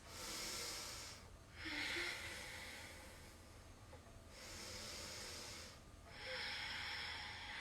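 Slow breaths taken while holding a seated yoga twist in a London class: several soft, airy inhales and exhales in an even rhythm, close and quiet, with short gaps between them and no voices.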